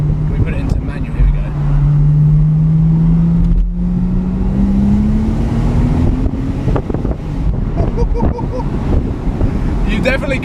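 Turbocharged car accelerating hard under manual gear control, a steady engine drone rising slowly in pitch over several seconds, heard from inside the cabin with wind noise and people talking over it.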